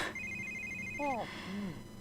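Phone ringing in The Sims 3 video game, a short bright electronic ring tone heard alongside game sounds and a voice-like chirp, brief and moderately loud.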